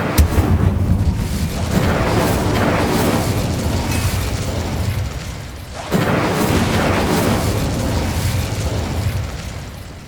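The Incendio fire spell is cast in Hogwarts Legacy with a loud, roaring burst of flame, then a second explosive whoosh halfway through, each swelling and fading amid ongoing combat noise.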